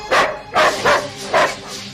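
Dogs bark in four loud, close, evenly spaced woofs, each a sharp burst with brief gaps between.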